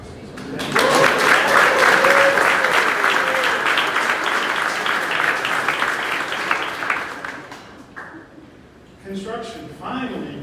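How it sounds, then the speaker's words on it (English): An audience claps for Doug Pruitt at the Distillery Labs grand opening, a dense loud round of applause lasting several seconds before fading, with a few voices over it and a speaker resuming at the end. "just for a round of applause for him"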